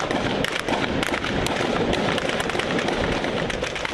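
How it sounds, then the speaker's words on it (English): Battle gunfire in Misrata, Libya crackles in dense, rapid bursts of sharp shots amid a constant rumble, loud and continuous without pause. "There's a massive amount of smoke and an awful lot of firing."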